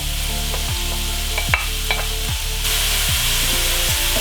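Onions and garlic frying in hot coconut oil while being stirred, a loud close sizzle broken by regular scraping strokes of a spoon across the pan, with a metallic clink midway and no speech.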